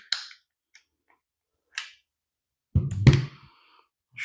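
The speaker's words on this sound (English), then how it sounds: "the rounds just pop right into this revolver cylinder. So they snap in just like that" Revolver rounds snap into the cylinder of a Pistelle X-68: a few sparse, crisp clicks close to the microphone, then a louder cluster of snaps and thunks near the end.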